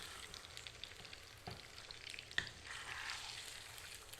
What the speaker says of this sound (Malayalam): ഇനി നന്നായിട്ടൊന്ന് മിക്സ് ചെയ്ത് കൊടുക്കാം